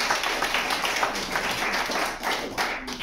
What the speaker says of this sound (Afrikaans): Ek dink ons kan hom al 'n klap gee